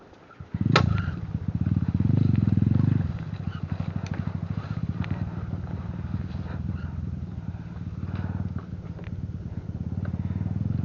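A Kawasaki KMX motorcycle engine starts with a sharp clatter, then runs at a close, steady idle putter for the rest of the clip. A faint voice is heard once.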